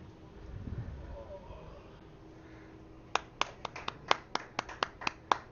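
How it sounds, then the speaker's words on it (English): Sparse applause from a small, quiet audience at a 2018 curling final, about a dozen sharp, close claps in an irregular burst near the end, after a stretch of faint background murmur and rustle. "some applause"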